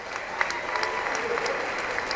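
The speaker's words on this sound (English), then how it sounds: "I think she also deserves a round of applause." Audience applause at a Lagos State University honours ceremony for a top graduating student: steady, dense clapping from a crowd, fairly quiet and continuous throughout.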